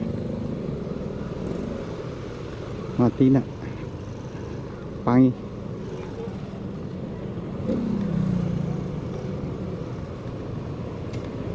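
Heavy road traffic with motorcycles in the Matina Pangi area, a continuous low rumble of engines passing close, with someone talking briefly over it.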